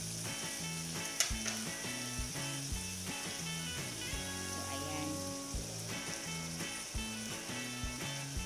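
Tuna sautéing in a pan gives a steady sizzle with occasional stirring scrapes, heard beneath background music.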